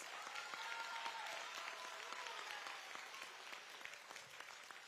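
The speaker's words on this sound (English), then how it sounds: "Let's give them all another round of applause" Sustained applause from an audience for students competing in a county math bee, fairly distant and even, slowly tapering toward the end.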